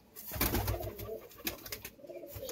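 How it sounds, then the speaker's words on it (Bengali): Pigeons of an Andhra breed cooing in a loft, soft rolling coos repeated over a steady background murmur, fairly close and moderate in volume with no talk. "চোখের পায়রা এটা।"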